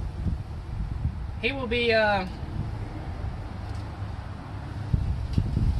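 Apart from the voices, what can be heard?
wind blowing against the microphone outdoors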